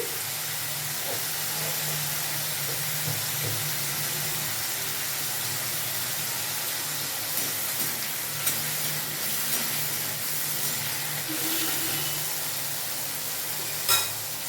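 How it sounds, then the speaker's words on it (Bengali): Pointed gourd seeds, salted, fry in a pan with a constant faint sizzle and hiss, broken by a few light clinks and stirring scrapes over the long stretch, with no speech. "আগে দানাগুলো একটু ভেজে নিই আমি"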